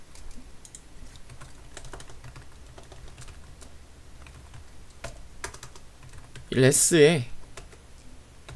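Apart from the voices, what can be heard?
typing on a computer keyboard while writing code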